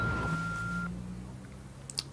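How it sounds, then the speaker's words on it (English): An answering machine sounds a single steady beep lasting under a second, followed by low room hiss and a faint click. "Please record a new message after the beep."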